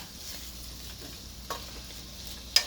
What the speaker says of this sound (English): you want to cook this till you feel that the color of the bitter gourd pieces is changed